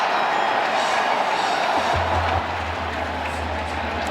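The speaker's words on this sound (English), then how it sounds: "And this crowd is electric" A big stadium crowd at a Virginia Tech vs Virginia college football game sends up a steady, loud, roaring wash of cheering and noise that fills the whole clip.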